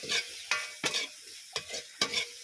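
Shrimp cooking in a pan in a small home kitchen: quiet sizzling broken by about five sharp scraping stir strokes, spaced unevenly and heard close.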